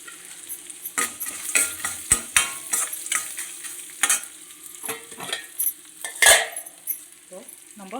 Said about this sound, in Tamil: இப்போ வந்து நம்ம வேர்க்கடலை வந்து நம்ம போட்டுக்கலாம்.